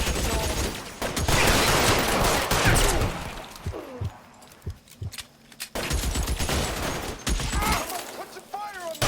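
Bursts of gunfire in the L.A. Noire video game, with rapid volleys of shots clustered at the start and again later, loud and close, mixed with in-game voices and a quieter stretch of scattered single shots in between.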